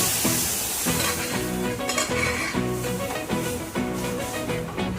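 Sizzling oil under rhythmic background music, with occasional stirring scrapes; the frying sound stays steady beneath the melody.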